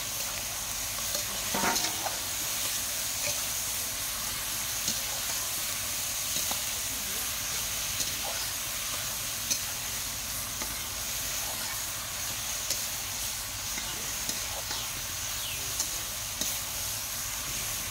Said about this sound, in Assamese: এতিয়া মই ভাজি আছোঁ।